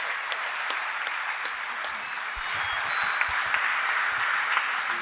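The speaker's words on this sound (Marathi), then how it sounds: "आपण सगळ्यांनी उभं राहून परमपूज्य स्वामींसाठी एकदा जोरदार टाळ्या वाजवूयात." A standing audience gives loud, sustained applause for a revered Swami at the close of an endowment lecture, a dense continuous clatter of many hands that grows stronger in the second half.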